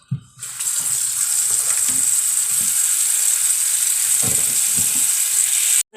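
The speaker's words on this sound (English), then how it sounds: "So let me wash my hands one more time" Tap water runs in a steady hiss into a sink while hands splash and rub underneath, before the flow cuts off.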